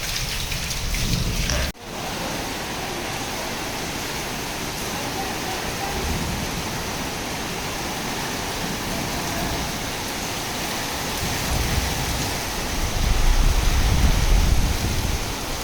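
Heavy rain pours down in a dense, steady hiss that stays close and loud throughout, with a brief dip early on and swelling slightly toward the end, with no voices.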